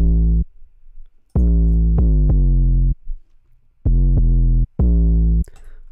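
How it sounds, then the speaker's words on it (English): An 808 bass sample from a drum pack, used in a dark trap beat built in FL Studio, booms out in four loud, long sustained hits separated by short gaps, with no voices. "I added in one 808 from Simon Servita's pack."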